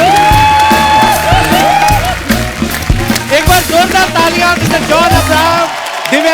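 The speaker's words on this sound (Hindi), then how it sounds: "चलो एक बार जोरदार तालियां मिस्टर जॉन अब्राहम।" Studio audience applauding and cheering for actor John Abraham on a TV comedy show stage, loud and sustained, with music and voices mixed through the crowd noise.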